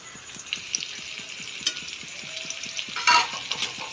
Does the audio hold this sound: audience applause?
no